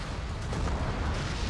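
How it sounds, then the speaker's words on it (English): A shuttle explodes in a Gundam game as a loud, continuous roaring blast with crackling bursts, filling the whole short moment. "Shuttle's gonna explode."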